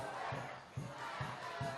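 A large football crowd of Azzurri United supporters at a Darwin league preliminary final roars and chants steadily in the distance, with rhythmic low thumps pulsing underneath.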